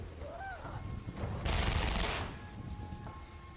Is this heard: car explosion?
yes